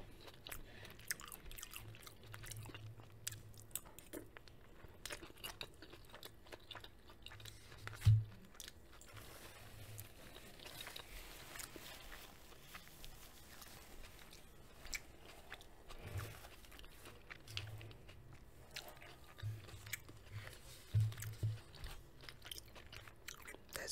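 Someone eats a Taco Bell chicken cantina bowl close to the microphone, with soft wet chewing and occasional crunchy bites spread over a quiet, intimate background, without talking.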